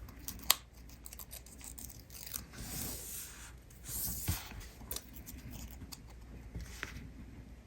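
Small scissors snipping a paper flag end on a handmade gumball-machine card: quiet, close scratchy cuts and rustling paper with a few sharp clicks, no talking.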